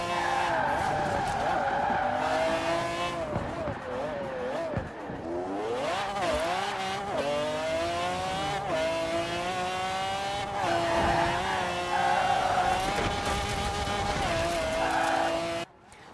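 A supercar in Forza Horizon 4, among the fastest-accelerating vehicles in the game, revs hard through rising gear changes with tire squeal and skidding, loud and continuous throughout.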